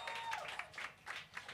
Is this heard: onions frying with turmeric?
no